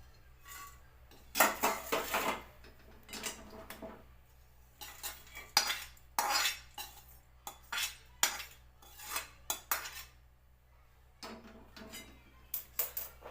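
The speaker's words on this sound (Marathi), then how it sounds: "हे काप गरम झाल्यात आपण डिशमध्ये काढून घेऊया" Heated coconut slices are scraped out of a pan into a dish, with a series of clattering spoon-on-metal strikes and scrapes in uneven bursts separated by quiet pauses.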